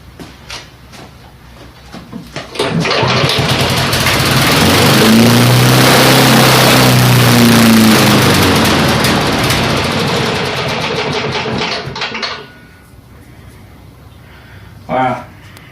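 Snapper walk-behind lawn mower with a brand-new carburetor, engine running roughly for about ten seconds at close range, surging and sputtering before cutting out, followed by a brief knock.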